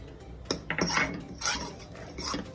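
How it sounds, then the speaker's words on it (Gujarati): A spoon mixes date-tamarind chutney into dry kachori masala in a bowl or pan, giving a few close, irregular clinks and scrapes of metal against the vessel in quick bursts. "જે ખજૂર આમલીની ચટણી બનાવી છે તે નાખીશું અને સારી રીતે મિક્સ કરી દઈશું"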